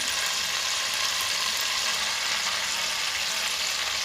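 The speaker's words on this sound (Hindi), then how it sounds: "अब इसमें हम वेजिटेबल फ्राई करेंगे।" Vegetables with ginger frying in a pot for chicken fried rice, a continuous dense hiss of sizzling oil, steady and close with no talking.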